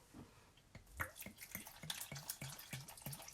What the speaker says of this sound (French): Pour faire cuire cette chair, je vais ajouter de l'eau.